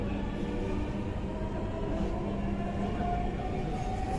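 A Dhaka Metro Rail train runs along the line, giving a steady, loud, close rumble with a faint whine rising briefly near the end and no voices.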